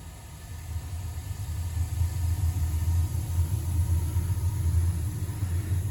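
Steady low roar of a Burnham gas boiler's burner firing after main ignition, a continuous rumbling hum that stays loud and even throughout with no talking.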